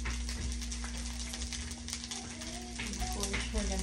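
Olive oil sizzles steadily in a pan over high heat, a dense close crackling hiss running throughout with a low hum underneath and a voice talking over it.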